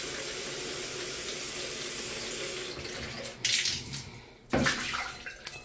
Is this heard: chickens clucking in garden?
no